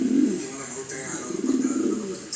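Pigeons in a double cage with a divider cooing low and close, a soft throaty burble that swells and fades over the span while someone speaks.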